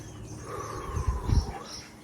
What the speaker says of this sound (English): Where's all that chirping coming from?